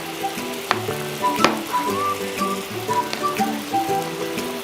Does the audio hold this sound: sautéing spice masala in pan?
yes